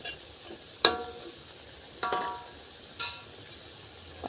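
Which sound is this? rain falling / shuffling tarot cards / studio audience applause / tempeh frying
tempeh frying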